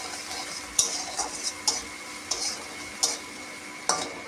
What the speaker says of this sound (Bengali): কাঁচা লঙ্কা কুচি, পরিমাণ মতন হলুদ আর নুন দিয়ে এটা ভালো আমি করে কষিয়ে নেব